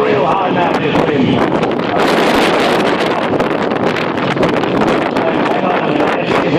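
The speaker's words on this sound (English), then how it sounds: "That wind really kicking up now." Strong gusting wind buffets the microphone at an outdoor stunt show, producing loud, continuous roaring rumble with repeated bursts throughout.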